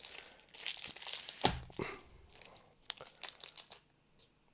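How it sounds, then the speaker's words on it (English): Crinkling plastic wrappers on Magic card booster packs are torn and scrunched by hand, close and fairly soft, in irregular bursts of crackle with brief pauses between them. "We gotta get that wrapper sound going."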